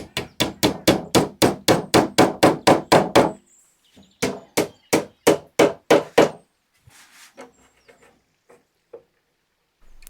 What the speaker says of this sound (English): put in the dowels, line up the other piece, give it a smack with the hammer